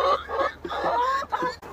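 Backyard chickens cluck and squawk in quick, choppy bursts close by during morning chores, several birds overlapping with no human voice.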